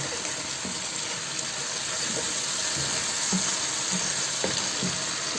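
Ground spices hit hot oil in a pan for chicken kabsa biryani, giving a steady, moderately quiet sizzle and frying hiss with occasional soft stirring knocks.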